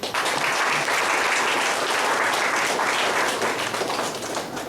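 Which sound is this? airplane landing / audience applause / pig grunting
audience applause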